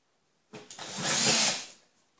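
A single short burst of a power drill drilling a pilot hole, whirring up and winding down, lasting about a second and a half, close by with no talk.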